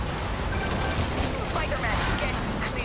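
Rapid police gunfire rattles in a dense, continuous volley in Spider-Man on PS5, loud and busy with mechanical clatter, while a voice talks over it.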